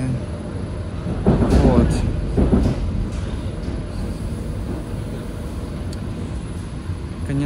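A Moscow suburban electric train of the ED4M or EP2D type rolls along with a steady low rumble and wheel noise, heard from inside, with a brief louder surge near the start and a short spoken word.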